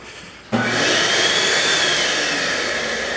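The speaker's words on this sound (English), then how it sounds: "Got your power hair dryer." Near silence, then a wall-mounted hair dryer in a state park bathhouse switches on with a loud, steady whoosh and whine that runs to the end.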